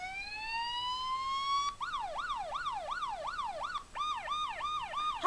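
A police siren plays from a phone app. It opens with a rising wail, then switches into rapid repeating yelp sweeps, clear and alone with no other sounds.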